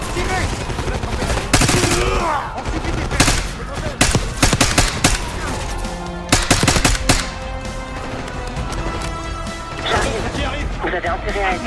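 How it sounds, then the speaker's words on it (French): Black Ops 6 gameplay fills with loud bursts of automatic gunfire and single shots in irregular clusters, mixed with crashes and impacts, while players talk over the action. "Horn, tirez!"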